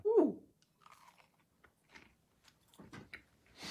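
Someone chews a dense 1950s-style fig and nut cake, producing a loud initial bite followed by sparse, close, moist crunching sounds spaced across a few quiet seconds.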